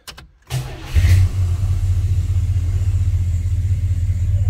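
Plymouth car engine cranking and catching, then a brief rev before settling into a loud, steady low idle rumble, close up with no talk.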